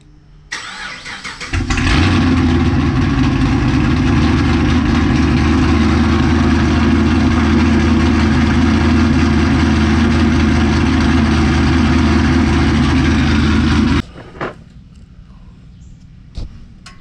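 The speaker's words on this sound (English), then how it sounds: "Just a little cold start. It's gonna be loud." A Pontiac G8 GT cold-starts with a loud crank and catch, then settles into a steady, heavy, rumbling idle for about twelve seconds before cutting off abruptly into quiet.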